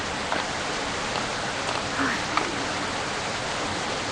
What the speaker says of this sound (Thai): ฝนจะตกแล้วอ่ะ